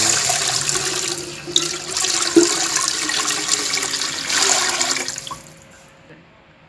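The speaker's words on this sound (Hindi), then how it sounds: "अब हम इसमें पानी ऐड करेंगे।" Water poured into a cooking pot of salted water while making rice with spinach, a steady splashing rush that runs for several seconds before tailing off into quiet.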